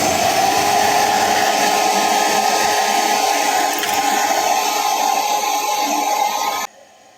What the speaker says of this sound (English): we're going to turn on the do-it-yourself stand dryer